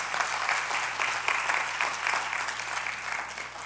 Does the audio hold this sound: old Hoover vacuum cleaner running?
no